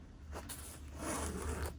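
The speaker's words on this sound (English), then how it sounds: "and zipper is very smooth," A zipper is drawn smoothly along a small Dior makeup pouch, a soft continuous scraping run close by, quiet and without speech.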